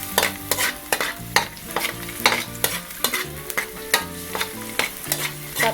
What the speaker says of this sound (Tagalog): Tapos haluin lang natin siya. Hanggang sa mag-light brown yung ating bawang.